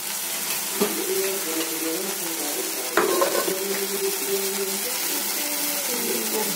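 Grated carrot palya seasoned with salt, chili and turmeric sizzles steadily in a pan while a spoon stirs it, with a few scrapes and knocks over the continuous frying hiss.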